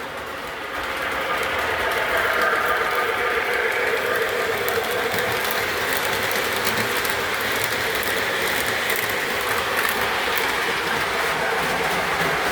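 A model train with a Lackawanna B unit runs steadily along the track, a continuous near rumble with fine rhythmic clicking of wheels, no talk over it.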